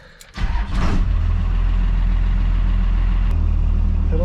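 A truck with a 12-valve Cummins diesel and Dana 70 drum brakes starts off with a brief clunk and rush. A steady, loud, low engine drone follows, close by, with a short voice near the start.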